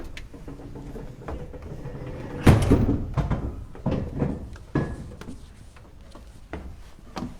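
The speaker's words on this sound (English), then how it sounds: "Another fire-safe door." A heavy metal-clad fire-safe door inside Turku Cathedral opens with a loud clunk and scraping bang, followed by smaller knocks and rattles of the mechanism in a reverberant stone interior.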